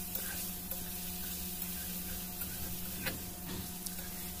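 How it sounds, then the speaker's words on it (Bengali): Shrimp frying in hot oil gives a steady, fairly quiet sizzle with small scattered ticks and crackles, unbroken for the whole stretch with no voices. "তো এটাকে বেশ 10-15 মিনিট যাবৎ ভাজতে হবে"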